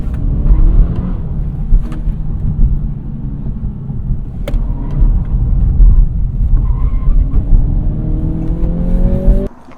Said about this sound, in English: I was able to thrash this car 10 out of 10, like use all of its capabilities in normal driving situations